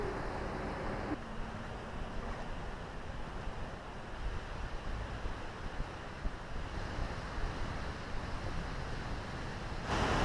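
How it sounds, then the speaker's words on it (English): A big waterfall in Glacier National Park, Montana roars as a continuous, dense broadband rush of falling water, steady and enveloping, heard alone without talk. "It's a big waterfall."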